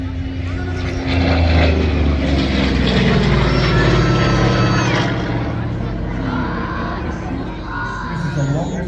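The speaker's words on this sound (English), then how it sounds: "if you listen to that engine, it hardly sounds like it's doing any work at all" Piston engine of a propeller plane at an air show, a low, steady drone that rises and falls as the aircraft passes, with crowd noise and talking over it.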